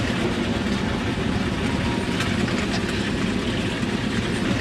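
A Jaguar Mark II with a 3.4 litre XK engine burbles at a steady low idle outdoors at a steam gathering, a continuous rumbling drone with ambient show noise around it.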